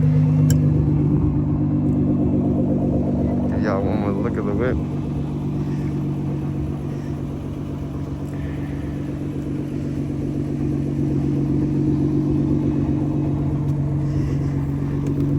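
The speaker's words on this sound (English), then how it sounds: "I'm gonna give y'all a look while it's idling, so y'all can hear it." A Nissan GT-R R35 idles with a steady low rumble that runs evenly under a voice at the start and keeps going alone, close and loud, through the rest of the stretch.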